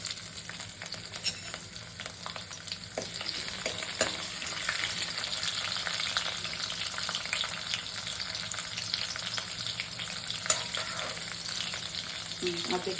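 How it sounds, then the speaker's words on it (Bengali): Green and red chillies frying with nigella seeds in a wok give a steady, close sizzle with occasional stirring scrapes and pops, and no voices. "আর দেখুন কড়াই কালো জিরে ফোড়ন দিচ্ছি।"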